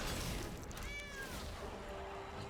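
A cat meows once with a clear rising-falling cry, followed by a softer, lower meow, set against a busy background of game sounds in the MTG Arena card game.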